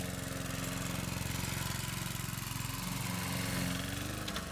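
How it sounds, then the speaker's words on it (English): A lawnmower runs outside in an animated comedy scene, making a faint, steady engine drone with an even buzzing pulse that carries on unbroken from start to finish. "all I could hear was a lawnmower"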